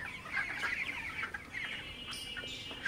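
Broiler chickens cluck steadily in a dense, continuous flock chorus, with sharper individual calls standing out now and then against the constant background of a poultry house.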